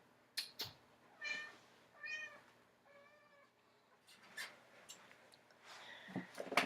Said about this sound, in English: Oh, our cat's back.